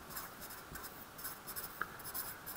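Pen or marker scratching across paper or a board while chemical equations are written out by hand, a quiet run of short strokes and taps with pauses between them.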